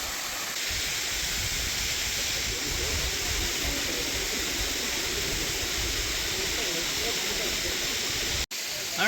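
Ton Maliton waterfall in Khao Lak, Thailand, pours with a steady, broad rushing roar that holds constant and loud, ending with a brief cut near the finish.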